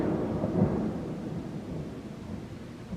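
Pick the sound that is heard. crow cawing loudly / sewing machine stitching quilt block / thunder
thunder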